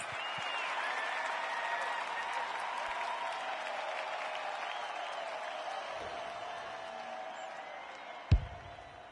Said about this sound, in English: The crowd noise tells you all you need to know